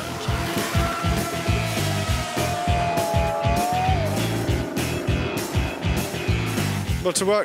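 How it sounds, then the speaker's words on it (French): The wedge-shaped Lotus 72 racing car pulls away at the start of a historic race, its engine rising in pitch in rapid pulsing bursts, loud and close, with other cars and a faint squeal of tires nearby. "La Lotus 72 taillée en biseau prend le départ"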